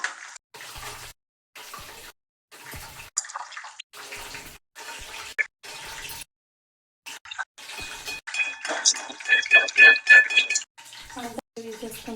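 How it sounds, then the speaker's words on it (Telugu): Curry leaves frying in hot oil in a pan after the stove has been switched off, a bright crackling sizzle with some light clinks. The sizzle rises to a steady hiss between stretches of speech. "ఆయిల్ వేడిగానే ఉంది కరివేపాకు వేయించుకుంటాము"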